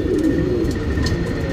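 Pigeons kept for sale giving a brief, soft cooing call close by, over low ambient rumble.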